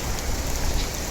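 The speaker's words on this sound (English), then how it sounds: "it just started raining a bit ago" Light, gentle rain falling steadily outdoors in a cold early-March garden, a soft continuous patter of drops on surfaces with no talking.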